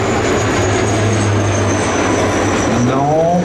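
A Sécurité Civile Dash 8 firefighting turboprop with a belly retardant tank flies over at an air show at La Ferté-Alais, giving a loud steady propeller drone with a rising whine near the end.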